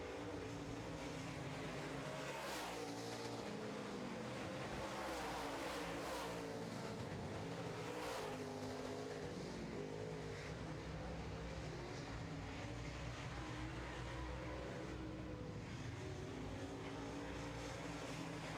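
Late model race cars roar around a track in a heat race, a dense, continuous wall of engine noise with rising and falling revs as several cars pass, loud and sustained without any talk.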